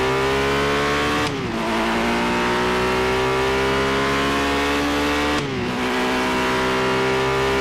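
A race car engine in a racing video game's ranked GT event roars loud and constant at high revs, dipping briefly twice at gear shifts before climbing again.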